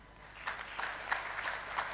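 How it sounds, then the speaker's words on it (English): Quiet applause from the audience at a one-day tax conference, with scattered, soft claps over a low murmur of background noise in a large room. "A big round of applause,"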